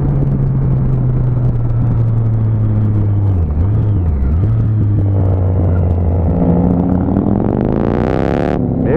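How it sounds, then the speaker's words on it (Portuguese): Loud Harley-Davidson motorcycle roaring past in the street, its deep engine drone holding steady, dipping in pitch as it goes by, then revving up sharply near the end before cutting off. "Meu Deus, foi só uma das nossas motos barulhentas."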